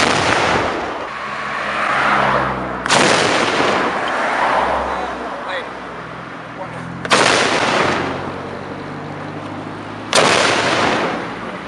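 Three sharp, booming blasts from a coconut-trunk cannon, a traditional bamboo-style explosive banned in Malaysia, each sudden crack followed by a rumbling decay, spaced about four seconds apart, loud and close with faint voices in between.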